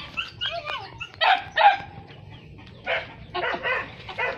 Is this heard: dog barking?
yes